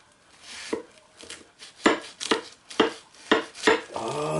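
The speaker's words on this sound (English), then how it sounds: "This is just for the purpose of cutting the pie." A super sharp knife cuts through a Pukka festive pie, producing a series of crisp, close crunching chops of the pastry against a board, roughly eight strokes in an irregular rhythm, with no talking.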